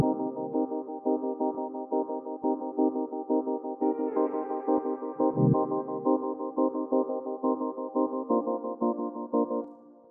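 Layered synthesizer keys made in Serum play a steady chordal pattern with rhythmic pulsing, echoing delay and reverb, loud and alone without any voices.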